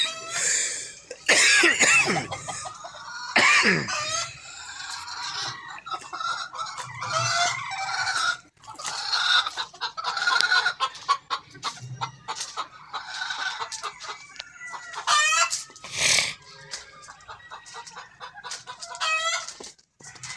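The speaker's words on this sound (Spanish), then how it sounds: "para allá atrás los pollos" Chickens cluck busily around a rooster farm, with a rooster crowing loudly nearby and occasional cough-like squawks, a dense and lively barnyard chorus with no talking.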